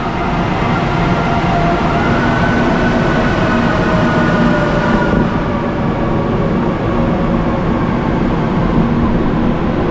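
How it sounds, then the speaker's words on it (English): A loud, steady rumble and roar of a Manila MRT metro train arriving near Taft Avenue station, with a faint high whine over the din, close by and continuous. "And there's a train coming"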